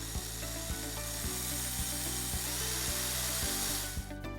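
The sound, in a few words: power drill drilling holes in wood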